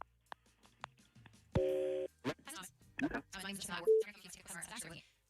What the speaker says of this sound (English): let's get started and make that phone call